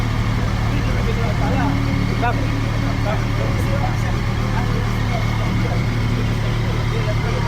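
A Kawasaki ZX-series three-cylinder sport motorcycle, a ZX-820RR or ZX-500RR, runs with a steady, close, buzzy engine rumble that holds level with no clear rises in revs. A voice speaks briefly over it.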